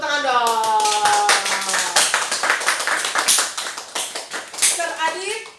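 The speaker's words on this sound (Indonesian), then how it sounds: "Ayo Bu, mari Bu, tepuk tangan dong." Audience members clap hands at a company event in Indonesia, sharp claps mixing with a lively voice speaking over them, the clapping thinning toward the end.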